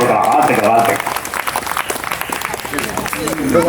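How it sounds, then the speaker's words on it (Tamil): Audience applause at a stage event during a comedy and honors program, dense clapping that continues throughout, with a voice over it in the opening second. "முன்னாடி வந்து ஒரு கைதட்டு கொடுக்கலாம்"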